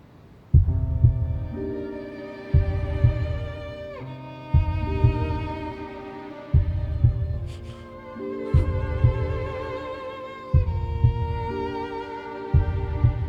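Recorded heartbeat played back in a courtroom, a steady lub-dub thumping about every two seconds, deep and booming over a low hum, with no talking.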